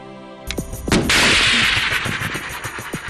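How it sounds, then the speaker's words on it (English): A live guided missile fired from a BMP infantry fighting vehicle: a sharp loud blast followed by a sustained roaring whoosh of the rocket motor that fades over a couple of seconds, with a steady engine rumble underneath. "he gets to fire a live missile from the BMP"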